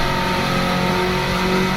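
A Honda Civic Type R FK2 engine in a racing video game revs steadily for a launch-control drag start, a continuous loud held drone with no pauses.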